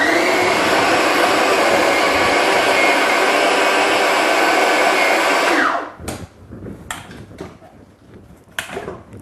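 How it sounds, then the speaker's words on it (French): A food processor whirs loudly and steadily while mixing crumble dough for a fish crumble, then cuts off abruptly, leaving a few light clatters and knocks. "on va repasser un petit peu au robot"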